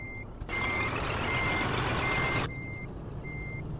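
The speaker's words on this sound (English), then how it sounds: "I'm going to reverse in a straight line." A truck in Euro Truck Simulator 2 sounds its reversing alarm in steady, evenly spaced beeps, briefly masked by a loud hiss of air brakes or engine noise in the middle.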